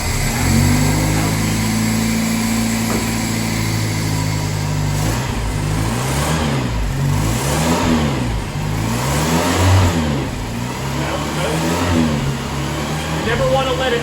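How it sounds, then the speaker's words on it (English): A 1977 Land Rover Lightweight truck engine rumbles to life and revs up and down several times, the pitch rising and falling in repeated swells up close. "Let's go ahead and give this truck a start up and see how it does."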